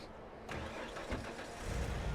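A vehicle engine starts up in the video game Red Faction: a sharp onset, then a steady mid-pitched rumble that thickens toward the end, with no talk over it.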